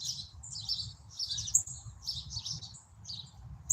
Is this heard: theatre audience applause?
no